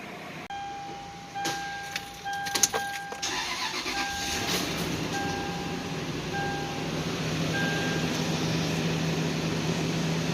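A 2003 Lexus LX470 engine cranks and catches after a few clicks and a chime, then settles into a steady idle that runs on, with intermittent warning beeps.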